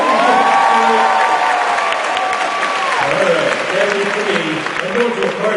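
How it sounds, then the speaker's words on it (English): Crowd applause and cheering at the Simpsons panel at San Diego Comic-Con 2014, loud sustained clapping from a large audience, with a voice heard over it early on. "Big round of applause, everyone."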